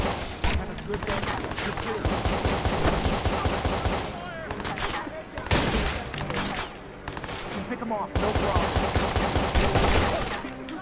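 Rapid gunfire in the Watch Dogs video game, a dense, continuous barrage of loud shots with only brief breaks, layered over game sound effects.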